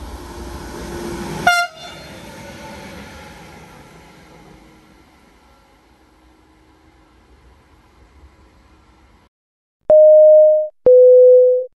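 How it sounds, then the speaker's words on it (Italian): A train passes through the station at Anzola Emilia in Italy: a loud rushing roar that fades steadily over several seconds, followed after a short silence by two clear electronic chime tones. "Attenzione! Treno in transito al binario 1, allontanarsi dalla linea gialla."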